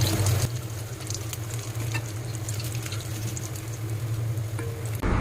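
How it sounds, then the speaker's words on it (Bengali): Loitta fish (Bombay duck) fry in hot oil, giving a dense, continuous crackling sizzle with scattered pops. It stays loud and close throughout and cuts off abruptly at the end. "সুন্দর করে দুবার তুলে ভেজে নেব"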